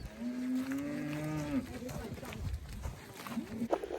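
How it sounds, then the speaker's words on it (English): Cows with their calves moo along a countryside hiking route, with a couple of long, drawn-out, wavering lowing calls, the second shorter, over open outdoor background noise. "cows and their calves here"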